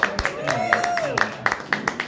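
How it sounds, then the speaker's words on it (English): Audience at a comedy show in Thousand Oaks, California, giving a brief round of clapping, sparse sharp claps in a loose rhythm under a sustained vocal sound. "give that guy a clap"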